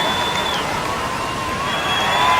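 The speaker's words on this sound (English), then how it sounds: "listen to the crowd" A surf crowd on the shore at Bells Beach cheers loudly through the final between Italo Ferreira and Mick Fanning, a steady, close wash of cheering and shouting that holds without a break and swells slightly at the end.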